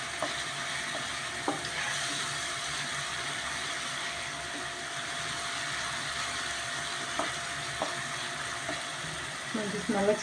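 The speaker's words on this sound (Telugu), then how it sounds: "మసాలా పేస్ట్ వేగింది." Ginger, garlic and green chilli masala paste frying in a pan for village-style chicken fry, with a steady close sizzle and occasional clicks of stirring against the pan.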